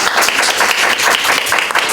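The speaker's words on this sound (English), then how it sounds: "Give them another round of applause." An audience gives a round of applause for guests on a talk show about ADHD, a brief burst of close, dense clapping at a steady level.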